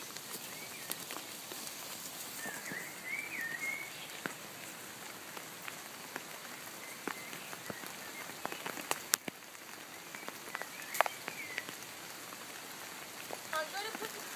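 Steady rain patters on a surface nearby, with scattered louder drips and a faint bird chirp at moments.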